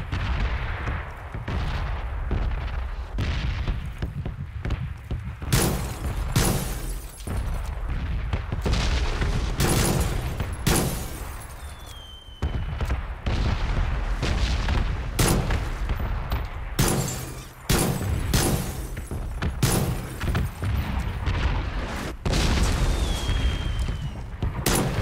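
Red zone bombardment in PUBG brings a long run of heavy explosions booming one after another at an irregular pace, some near and loud and others more distant, under a constant rumble.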